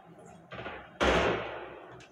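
Two battle rifle bursts fire in the video game Splitgate, a softer one followed by a louder, closer blast that decays over about a second, with a voice briefly heard.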